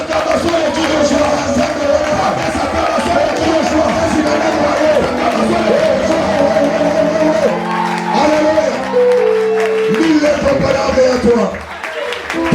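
A church congregation at a Sunday worship service cheers and applauds loudly and continuously, with whoops and shouts rising over a dense crowd roar and sustained tonal music or singing underneath.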